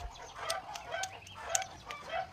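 Backyard hen clucking after laying an egg, a series of sharp, repeated squawks and clucks close by, fairly loud against a low background murmur.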